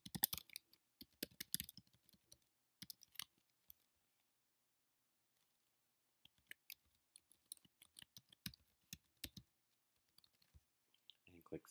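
Keys tapped on a Mac laptop keyboard, making faint, quick clicky keystrokes in two bursts separated by a few seconds of near silence.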